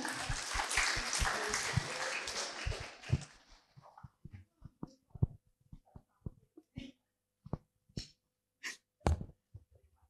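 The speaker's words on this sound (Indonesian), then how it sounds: "Tepuk tangan sekali lagi." A stage audience at a talk event claps loudly for about three seconds, then the applause fades into scattered, isolated claps and faint breathing noises.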